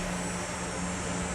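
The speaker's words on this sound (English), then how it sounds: "I have to have a fan on in here." Electric fan running in a hot garage where a plastic Briggs and Stratton carburetor is being cleaned, giving a steady, loud whooshing drone with a constant low hum throughout, no talk.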